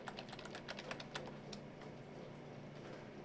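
Typing on a computer keyboard while editing text in overwrite mode: a steady run of light, close key clicks with uneven rhythm, fairly quiet.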